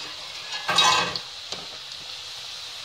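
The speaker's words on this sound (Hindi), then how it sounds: "ये सेव, इन्हें हम तल लेते हैं" Sev noodles frying in hot oil over a low flame, a soft steady sizzle with a louder burst of crackling and stirring clatter early on, then settling to a quiet bubbling hiss.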